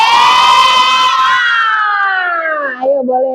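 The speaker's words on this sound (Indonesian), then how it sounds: "Ayo kita kasih paling semangat tepuk jazznya" A classroom of young children chants together in one long, loud, drawn-out shout that slides downward in pitch and ends with a short final call, close and energetic.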